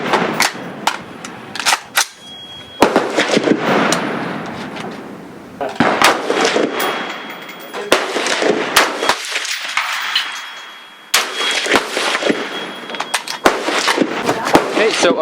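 Sharp rifle shots from an AR-15 and an AK-47 fired at an outdoor range, loud and close, cracking out in a rapid irregular series of over a dozen reports, with brief quieter gaps between volleys.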